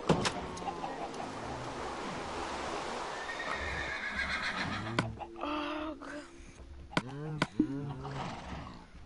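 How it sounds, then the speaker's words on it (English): A horse in the video game Minecraft neighs with a long, loud whinny up front, followed by several shorter snorts and whinnies and hoof clip-clops toward the end, all close and with no talking. "I might take one of my horses"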